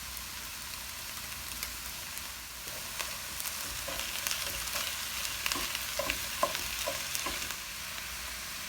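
Chopped onion, pepper and minced garlic fry in a skillet with a constant soft sizzle, while light scrapes and taps from stirring break through in the later part.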